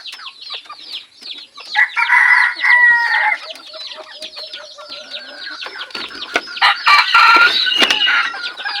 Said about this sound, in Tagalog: So mailap na klaseng mistisang labuyo.